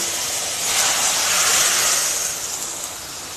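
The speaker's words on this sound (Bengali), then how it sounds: "ফুটন্ত তরকারির মধ্যে ফোড়নটা দিয়ে দিলাম" Hot spice tempering poured into boiling vegetarian jackfruit and potato curry, a loud, steady broadband sizzling hiss that swells and then eases slightly, close and continuous.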